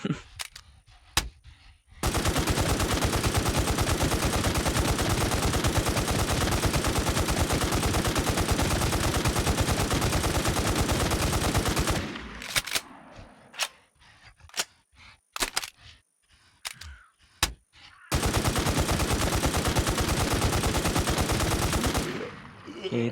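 An FN rifle in the video game Infestation fires in long, loud, continuous bursts, broken by a stretch of sparse single shots and clicks before the sustained firing resumes.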